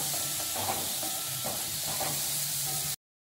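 Tomatoes sautéing in a pan for a homestyle onion sambar give off a steady, even sizzle and hiss that runs unbroken for about three seconds before cutting off abruptly. No one speaks.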